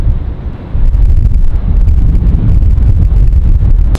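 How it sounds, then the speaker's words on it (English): Loud, steady wind buffets the microphone with a low rumbling roar, briefly lighter at the start, with no voices. "it's also so windy here."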